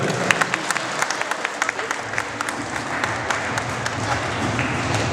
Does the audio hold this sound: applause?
yes